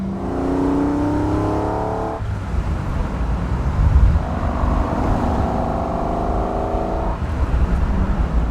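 A 1972 Jaguar E-Type V12 Roadster cruising on a curving road at dusk, its smooth engine note rising through the gears with a shift and steady motor hum, no talk.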